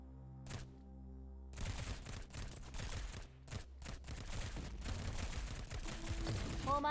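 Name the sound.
gunfire in the video game Girls' Frontline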